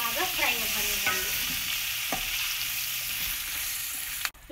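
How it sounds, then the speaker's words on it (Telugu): About ten green chillies frying in hot oil-topped masala for Hyderabadi mirchi ka salan, a steady loud sizzle with stirring scrapes throughout, close and without speech. "ఇప్పుడు ఇందులో మనం మిర్చి బజ్జీకి ఉపయోగించుకునే మిర్చిలను ఒక 10 వేసుకొని బాగా ఫ్రై అవ్వనివ్వండి।"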